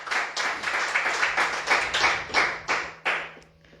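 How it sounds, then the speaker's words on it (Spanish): A church congregation claps for the Lord during a sermon on Nehemiah, a burst of rhythmic hand claps in a fairly steady beat that loosens and fades toward the end, with a low steady hum beneath. "Denle un fuerte aplauso al Señor"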